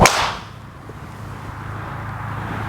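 A Mizuno ST-G 220 driver strikes a golf ball with one sharp, loud crack at the very start, followed by faint outdoor ambience and a low hum for the rest of the moment.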